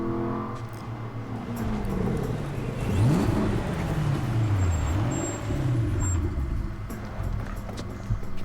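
An Aston Martin drifting in Need for Speed Carbon, engine droning and sweeping up and down in pitch as the car slides, with rising and falling revs and steady road noise throughout.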